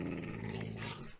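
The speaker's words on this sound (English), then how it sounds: "Ooh, the dogs are around," Wolves growl in a modded Minecraft survival game, a low rumbling snarl lasting about a second that stays close and fairly loud, with no speech over it.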